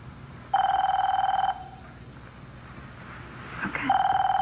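A telephone rings in a soap opera scene, with two clear electronic ring bursts separated by a quiet pause. Faint background sound and a brief noise come between the rings.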